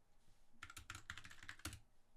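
Quick bursts of clicky keystrokes on a computer keyboard, about a dozen taps in a fast uneven flurry, close and fairly quiet with no talking.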